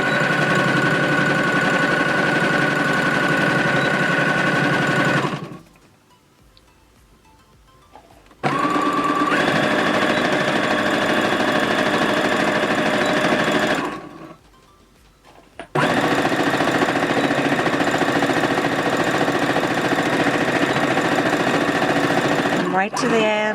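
A sewing machine stitching fabric up close: three long runs of steady, loud mechanical whirring and rapid needle chatter, separated by two short pauses of near silence.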